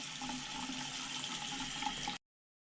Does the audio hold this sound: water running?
yes